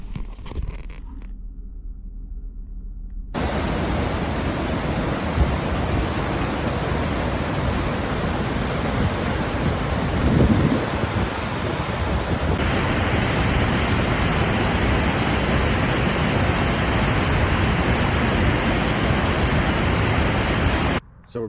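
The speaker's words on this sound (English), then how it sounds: "we're gonna go see her waterfall" A waterfall in Yellowstone National Park roars as a dense, continuous broadband rush, loud and steady throughout with no breaks or voices.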